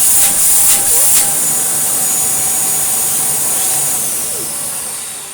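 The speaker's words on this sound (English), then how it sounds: "And you can hear the air leak." A vacuum cleaner running on its maximum setting gives off a loud, steady air-leak hiss close by. The hiss holds level for several seconds and then eases slightly toward the end.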